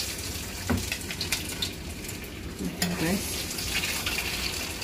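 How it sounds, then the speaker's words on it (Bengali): Chicken meat fries in a pan on a gas stove, a steady hiss and sizzle with a few clinks of a utensil stirring, heard close. "এটা ভাজা হোক।"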